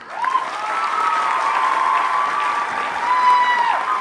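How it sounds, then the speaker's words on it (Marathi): A theatre crowd at a screening of the Marathi film 'Shivrayancha Chhava' claps continuously in a full, even roar of hands, with a steady held tone running over the clapping throughout. "दूरदर्शनच्या किमान निम्म्याने तरी टाळ्यांचा आवाज येऊ देतो."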